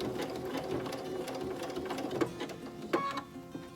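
Sewing machine stitching a wagon wheel quilt block, a fairly quiet, steady mechanical whir with quick stitching pulses and a couple of sharper clicks near the end, no talking.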